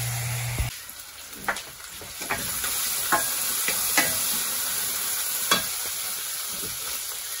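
Seasonings cook in a pan over a wood-burning stove for tutu de feijão, giving a steady close hiss, with a few sharp clicks and scrapes from stirring throughout.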